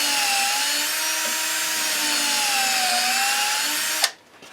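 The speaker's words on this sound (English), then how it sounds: "I got a drill bit that's a little bit smaller." A power drill bores pilot holes into hardwood for a wooden suet feeder, a steady whining motor with a slight pitch wobble, close and alone, stopping with a clunk at the end.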